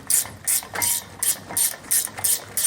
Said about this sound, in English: Now, using a 1/2-inch socket or wrench, you'll snug those down.